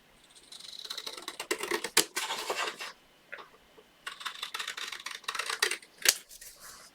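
Scissors cut through card stock for a handmade thank-you card in two bursts of crisp, close snipping and scratching, separated by a brief pause, with no talking.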